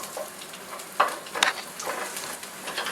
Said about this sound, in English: go ahead and cook that until the onions become transparent